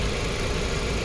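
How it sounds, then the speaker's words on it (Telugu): A 2017 Maruti Swift Dzire VXI petrol car idling, its engine humming in a steady, even low rumble up close with no voices. "ఇంజన్ సౌండ్ చూడండి సార్"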